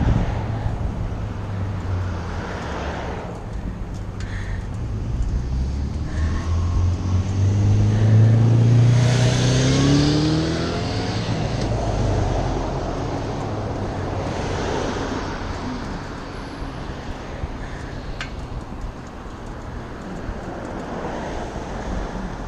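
Road traffic on a school-day afternoon in mid-October passes during a bike ride, vehicles swelling and fading under steady wind rush on the microphone, one louder pass near the middle.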